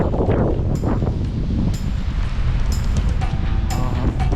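Wind blowing on a forest mountain trail in Patagonia, a steady broadband rush and buffeting against the microphone throughout, with no talk.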